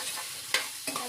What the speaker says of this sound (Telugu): ఇట్లా ఇట్లా మొత్తం కలిపేసుకొని ఒక స్పూన్ సాల్ట్ వేస్తున్నా